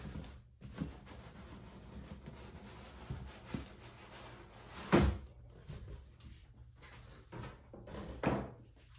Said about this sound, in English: So let's pop this box open.